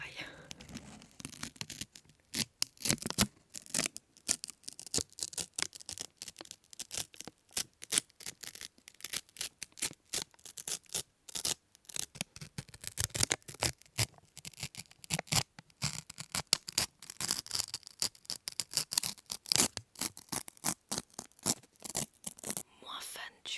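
Baking paper is torn repeatedly at close range in a paper-tearing ASMR session. Sharp, crackling rips come in dense, irregular bursts with brief pauses, loud and harsh throughout.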